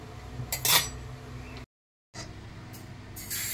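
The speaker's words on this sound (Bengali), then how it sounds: "তো থালাটাকে আমি এখন তুলে নিলাম।" A metal plate used for making malpua is lifted and handled, giving a few bright clinks and clatters near the start, then a brief silence, followed by softer scrapes and another clink at the end.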